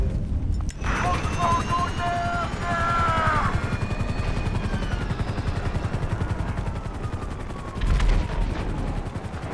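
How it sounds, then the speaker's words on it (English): A helicopter's rotor thumps steadily beneath loud Grand Theft Auto V game sound effects, with bursts of gunfire-like noise and a brief swell near the end. "We ain't going nowhere with that chopper on us."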